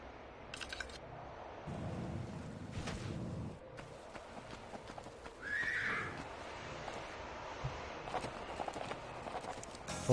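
Horse neighing and hooves in the 1996 video game Tomb Raider, a short whinny standing out midway over a steady low game rumble with scattered thumps.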